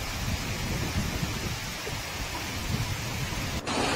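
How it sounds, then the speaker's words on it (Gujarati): Heavy downpour with thunder in Idar: dense, steady rain hiss with low rumbling underneath throughout, and a brief dip near the end before the roar resumes. "ગાજવીજ સાથે ધોધમાર વરસાદ થયો"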